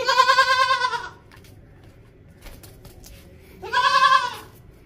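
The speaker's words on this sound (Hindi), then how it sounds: "ये बकरा देखें भाई, बढ़ने वाला बकरा है, खूबसूरत बकरा है।" A goat, kept for sale at a livestock market, gives two loud, close bleats with a quiet gap between them and no talk over the calls.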